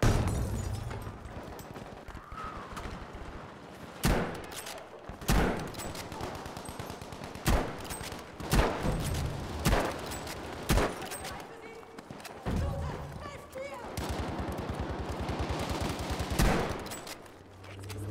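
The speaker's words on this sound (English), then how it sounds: "Out shooting in the air and getting hit markers." Battlefield V gameplay gunfire: repeated rifle shots and bursts of automatic fire with sharp cracks and occasional heavier booms, dense and loud against a constant battle din, with voices talking over it.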